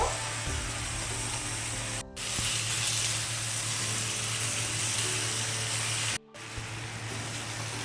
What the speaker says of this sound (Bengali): এবার আমি একটু ভালো করে ভেজে নেব এর মধ্যে একটু চিনি দিয়ে দেব